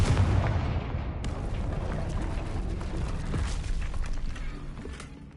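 A Confringo spell blast in Hogwarts Legacy, a loud booming explosion with a rumbling low roar that lingers and slowly fades over several seconds.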